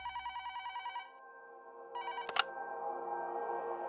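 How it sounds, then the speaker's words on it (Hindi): A telephone rings in a quick electronic trill, pauses, then starts again before a short clatter, fairly faint and alone. "मधु के बाबा ने यह खुशखबरी सुनाने के लिए मधु की ससुराल में फोन किया।"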